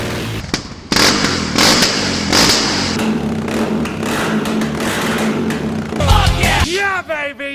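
Yamaha XT660R motorcycle with its exhaust system removed, revving hard up close in loud, raw bursts with sharp throttle blips and crackling drops between them.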